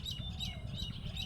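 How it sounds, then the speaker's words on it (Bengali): Birds chirp in a quiet rural spot among fruit trees in Charbaria, Barishal, with several short twittering calls in a row, faint and somewhat distant over low ambient noise. "আর এই যে দেখুন পাখির কিচিরমিচির শব্দ।"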